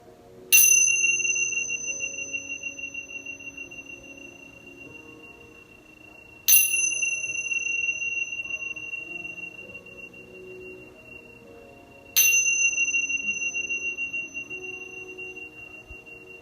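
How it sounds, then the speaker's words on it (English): A chanting bell rung three times at the close of a positivity stretching session, each clear metallic strike ringing out and slowly decaying for several seconds before the next, spaced evenly apart with no talking. "The chanting bells are rung 3 times in the power of positivity in our spirit, our mind, and our body."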